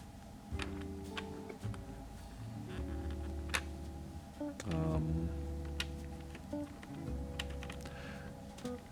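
Steady clicking of keys being typed on a mechanical keyboard, an aluminum NK87 build with Gateron X switches, close up, with a low constant hum running underneath.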